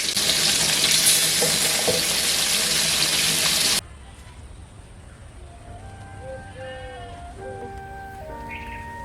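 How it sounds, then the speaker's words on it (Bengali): Fish fries on a village stove with a loud, dense crackling sizzle for several seconds, then cuts abruptly to a much quieter scene with faint background hiss and scattered high whistling tones. "মাছ ভাজার শব্দে রান্নাঘর ভরে উঠছে সুগন্ধে"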